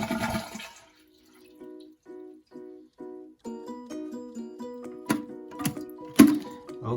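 A household toilet being flushed as water drains out of the tank, with a rushing flush at the start followed by gurgling and intermittent thunks and trickles as it empties, close and moderately loud with no voices.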